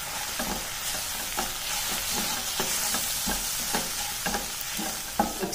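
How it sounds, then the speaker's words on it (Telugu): Cumin powder and garam masala are stirred into a hot cooking pan, a steady hiss of sizzling with a regular rhythm of spoon scrapes and taps. "ఇవన్నీ బాగా మిక్స్ చేసుకోవాలి."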